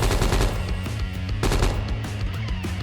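Full-auto gunfire from a video game rifle: rapid, evenly spaced bursts of loud cracking shots with sharp echoing tails, sustained and close throughout.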